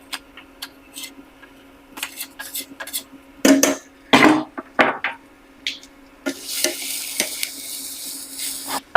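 Chopped garlic frying in a pan for a pasta dish, stirred with scrapes and clinks of a utensil against the pan, short bursts of sizzle and clatter building to a steadier sizzling near the end, close and fairly loud.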